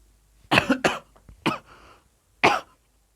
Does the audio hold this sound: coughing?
yes